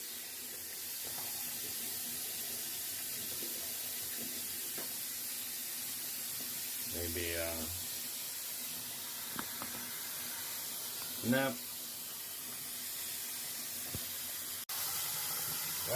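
A steady hiss of water running from a faucet fills the clip, with a couple of brief clunks and a few quiet spoken words.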